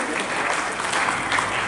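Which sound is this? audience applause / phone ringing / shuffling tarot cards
audience applause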